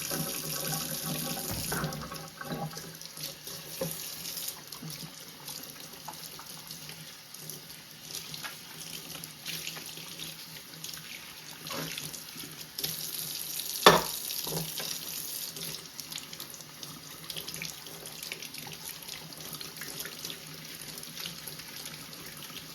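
A kitchen tap runs steadily for over twenty seconds while juicer parts are rinsed in soapy water, with a few clinks and knocks of the parts against the sink.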